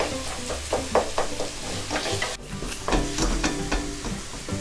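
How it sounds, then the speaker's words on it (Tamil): Puréed tomatoes for dhaba-style rajma masala are sautéed in a pan, a soft bubbling sizzle with repeated scraping strokes of a spoon, close by, briefly dipping then resuming; no voices. "தக்காளியை நல்லா மேட்ச் ஆகிற வரைக்கும் நல்லா வதக்கிக்கணும்"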